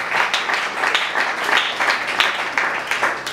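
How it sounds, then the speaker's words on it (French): Applause from an audience at a Kin Vision foundation event, dense and steady for the whole stretch, with no voices standing out above the clapping. "Ça mérite mieux nos acclamations."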